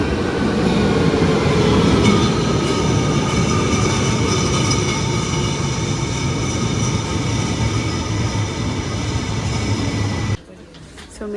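A metro train in Austria rumbles and clatters loudly at close range, a constant heavy roar from inside the car that cuts off abruptly near the end.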